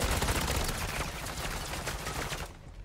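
Dense rapid gunfire in the video game MW3 Zombies, a continuous loud burst of overlapping shots filling the whole stretch before cutting off near the end.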